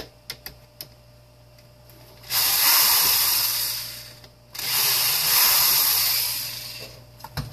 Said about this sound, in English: take that and unscrew this here